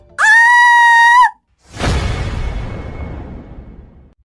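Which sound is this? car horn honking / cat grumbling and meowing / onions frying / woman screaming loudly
woman screaming loudly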